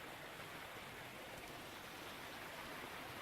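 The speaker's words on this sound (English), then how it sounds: "Nice creek here." A forest creek flowing beneath a footbridge in Huron-Manistee National Forest, a steady broadband rush of moving water, fairly faint and continuous, with no voices.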